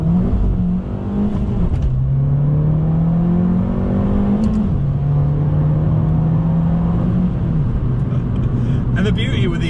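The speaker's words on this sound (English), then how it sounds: "the Akrapovic exhaust on the 595 Essesse is a winner" A Fiat Abarth 595 Essesse fitted with an Akrapovic exhaust revs and drones loudly and up close, its engine note climbing and settling in steady steps throughout, with someone talking over it.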